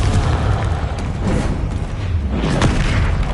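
A Confringo fire spell from Hogwarts Legacy explodes in a loud, dense, continuous blast with rumbling bursts that fill the whole moment, no talking over it.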